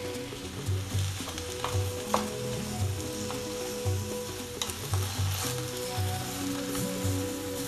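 Mushrooms for Cameroonian egusi soup sizzle and fry steadily in a pan, with a continuous crackle broken by recurring scrapes and stirs of a utensil, close and moderately loud with no talking.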